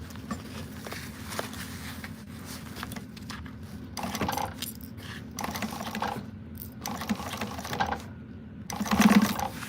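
A sewing machine stitches slowly around the rounded edges of a sewing project, its motor humming steadily up close with soft mechanical clatter and a slight speedup near the end.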